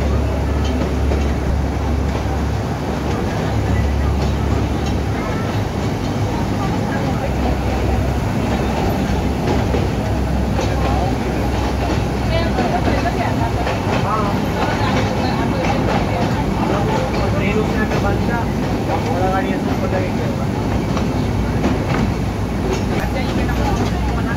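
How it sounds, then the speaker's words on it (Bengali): A train on the Matheran hill railway rumbles and clatters continuously up close, a loud, unbroken rolling roar of wheels and carriages with no pauses. "ট্রেনের আওয়াজটাই অসাধারণ।"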